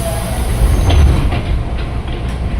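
A Saung Galih train from Kutoarjo pulls into track 2 of a station, a loud steady rumble of rolling cars with faint wheel squeal, nearby and continuous throughout.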